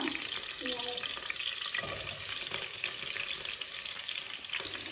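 Onions fry in a pan with a dense, steady hiss close by, broken by soft stirring noises throughout.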